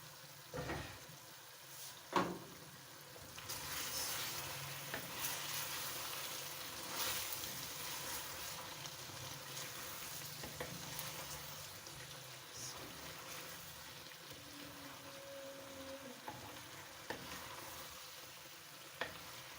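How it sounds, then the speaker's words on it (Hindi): Chicken pieces and capsicum sizzle and fry in a pan over a medium flame, a quiet, continuous crackle broken by occasional scrapes and knocks from stirring, with no voices. "अब मैं इसे इसी तरह भूनूंगी"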